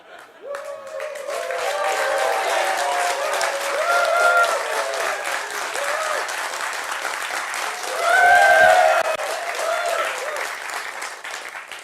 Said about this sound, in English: I want you guys to clap and applaud and be excited as if this thing ended and it went really, really well